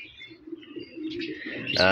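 A Bagha pigeon of an old line gives soft, low cooing notes close by, a brief murmuring call lasting about two seconds, ending with a sharper burst.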